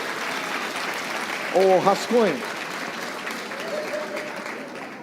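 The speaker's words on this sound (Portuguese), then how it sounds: "Com a salva de palmas para rascunho." Applause from a church congregation during a sermon, a continuous wash of clapping under a voice that briefly speaks over it.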